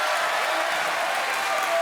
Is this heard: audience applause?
yes